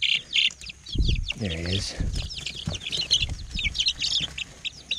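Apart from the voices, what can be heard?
chickens clucking on a farm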